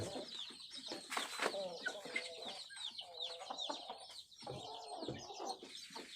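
Crossbred chickens, a mix of old and modern fighting-cock lines, cluck and chatter in repeated bursts close by, with a brief louder squawk partway through.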